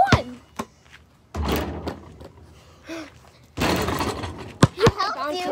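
A basketball bouncing and dropping through the hoop with a few hollow thuds and a rattling impact at close range, amid voices.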